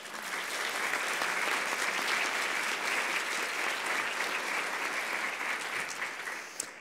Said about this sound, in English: So if you would join me in applauding them.